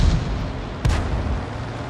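SU-8 self-propelled artillery firing in World of Tanks, a single deep boom midway through a rumbling, noisy game soundscape.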